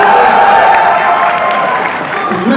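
Audience applause at an Independence Day kavi sammelan (Hindi poetry gathering): loud, dense, steady clapping from a crowd that fills the whole stretch with no pause.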